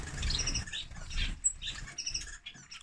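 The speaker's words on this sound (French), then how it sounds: "j'ai 4 moineaux du Japon dans la même cage" Four Japanese sparrows, also called society finches, share one cage and give soft, repeated chirps and twitters. The calls are close, continuous and overlapping, with light rustling underneath.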